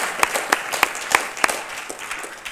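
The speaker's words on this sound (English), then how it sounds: "If we could give her a round of applause for emceeing today." Applause for the emcee at a Martin Luther King Day celebration: a moderate crowd clapping, with several sharp, distinct claps standing out at a steady rhythm over softer background applause.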